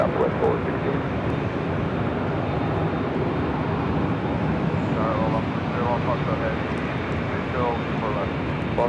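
Airplane engines at LAX during takeoff, a steady loud broadband roar that holds for the whole stretch, with air traffic control radio talk running over it.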